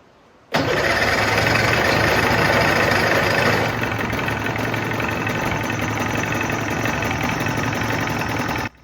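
A used outboard motor on a cheap fishing boat fires up abruptly and runs loudly and steadily, its rough roar easing slightly to a settled idle before cutting off.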